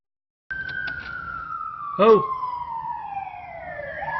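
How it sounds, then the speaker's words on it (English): A siren wails with a long, slowly falling tone, moderately loud, with a brief burst of another sound partway through. "hear that siren?"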